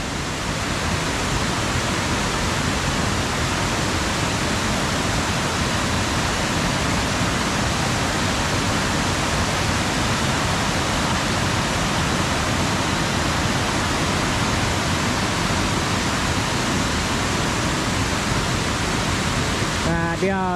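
A waterfall at Saliai near Xam Neua roars in a dense, constant wash of rushing water, loud and unbroken throughout.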